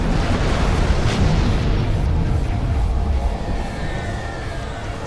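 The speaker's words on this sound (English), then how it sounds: "Taking some heavy fire here, Lita." Heavy weapons fire rumbles through a Star Trek Online space battle, a loud, continuous wash of low booming explosions that rolls on steadily and eases slightly toward the end, with no talk over it.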